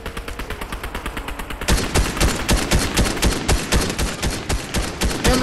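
Rapid, rhythmic automatic gunfire in Fortnite, a steady train of loud sharp shots that grows heavier and louder partway through, with no talk over it.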